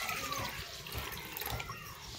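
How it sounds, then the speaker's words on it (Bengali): Water heating toward a boil in a wok before fish roe goes in gives off a faint, steady bubbling hiss with soft irregular gurgles throughout. "পানিটা ফুটতে লেগেছে।"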